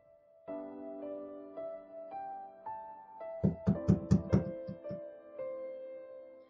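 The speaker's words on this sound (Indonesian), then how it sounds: "Terdengar pintu kamar Dira diketuk seseorang" Knocking on a bedroom door: a quick cluster of about half a dozen sharp raps, moderately loud, over a sustained soft musical backdrop that carries on before and after.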